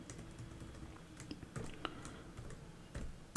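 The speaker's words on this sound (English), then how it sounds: "here I am typing my name" Quiet, continuous clicking of keys on a computer keyboard, with light taps in an irregular typing rhythm and a few slightly louder strokes.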